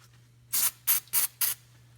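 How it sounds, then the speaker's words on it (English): Brake cleaner hisses out of an aerosol can onto a rag in four short, sharp bursts, close and fairly quiet over a low steady hum. "So I'm going to take a little bit of brake clean and spray it on the rag"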